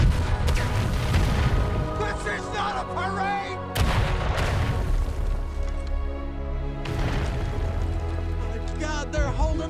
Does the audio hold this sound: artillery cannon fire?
yes